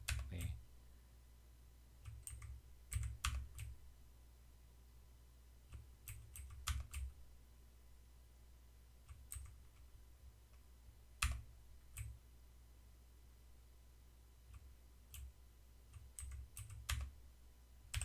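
Keys clatter on a computer keyboard while HTML content is typed, coming in irregular bursts of quick clicks separated by short pauses against a low steady hum, fairly faint and close.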